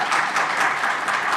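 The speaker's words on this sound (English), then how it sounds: "We'll see if they clap." Brief burst of audience applause at a city commission budget hearing, steady and moderately loud throughout with no voices over it.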